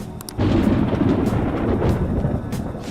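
Thunder in the video game Persona 5 Royal rolls in as a loud, deep, sustained rumble. It kicks in sharply after a brief pause and then churns on, with no talk over it.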